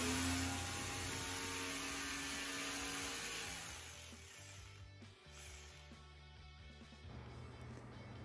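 A hammer drill grinds loudly into a wall with a steady whine, then eases off and sputters before resuming at lower intensity.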